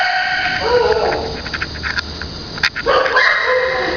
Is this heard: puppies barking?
yes